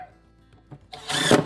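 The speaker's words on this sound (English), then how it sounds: "I can grab my remaining 2 screws and screw that in the back." A power drill briefly whirs up as it drives a screw into the back of a trash pull-out cabinet track, preceded by a few quiet clicks and taps.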